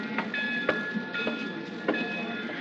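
A train rolls along in a radio drama, steady rumbling with rhythmic clickety-clack of wheels over rail joints and a faint high whine, close and continuous.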